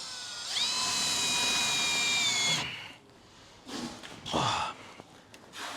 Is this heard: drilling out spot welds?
yes